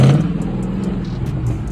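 Chrysler 300C Hemi V8 pulling hard after a downshift into second gear, a steady loud low engine roar with a deep rumble throughout, heard from inside the car.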